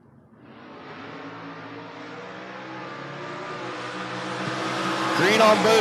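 Drag race launch at a racing event with a Camaro in one lane: a steady engine roar builds as the cars pull away, growing louder toward the end with a brief tire squeal, heavy and sustained.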